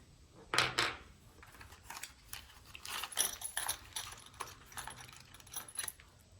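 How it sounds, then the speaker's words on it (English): A set of high security lock keys jangling with light, metallic clinks and rattles, some sharper jingles near the start, fairly quiet and with no talking. "High security keys in order to open your lock mechanically with a key."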